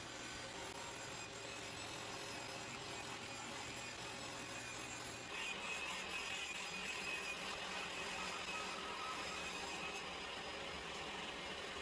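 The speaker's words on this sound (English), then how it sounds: "I am going to cut out a bunch of strips of aspen to about a 1/16 inch each" Thin strips of aspen are being ripped to about 1/16 inch for skateboard inlays, a steady continuous saw whine and rasp running throughout at moderate level, with no talking.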